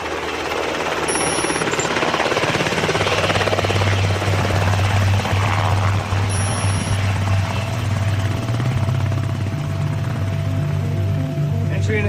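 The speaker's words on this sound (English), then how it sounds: "Entry and exit of the helicopter." Helicopter rotor blades turning in a steady, loud thumping drone near a combat operations setting, with a voice talking over it.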